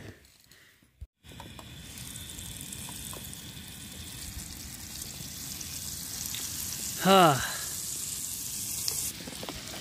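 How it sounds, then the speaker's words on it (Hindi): Butter and paneer bhurji sizzle steadily in a pan, a close continuous frying hiss throughout, with a brief bubbling burst near the end and a short spoken word. "तो भाई सबसे पहले तो इस पर डाल देते हैं बटर। तो आज बनने वाली है भाई अपनी पनीर भुर्जी,"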